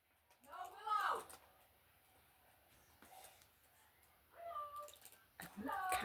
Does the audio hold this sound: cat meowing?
yes